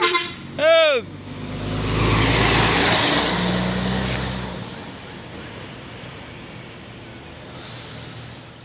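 A large bus, an Intra Jetliner SE21, rumbles past on the road, swelling and fading, after a short horn toot at the start; steady traffic hum continues afterward.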